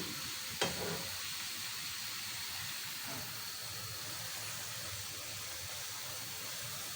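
Malpua frying gently in a pan over a low flame makes a soft, steady sizzle and hiss, with a small clink near the start.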